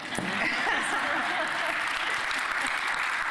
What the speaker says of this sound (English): y'all can clap for that, 'cause that's true.